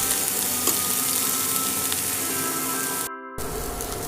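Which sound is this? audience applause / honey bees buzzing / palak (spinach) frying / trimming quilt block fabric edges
palak (spinach) frying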